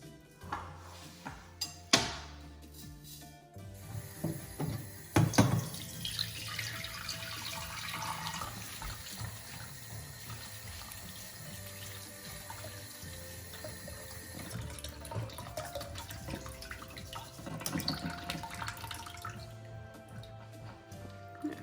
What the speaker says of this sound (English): we're going to keep washing the wheat until the water becomes clearer, just like we do with rice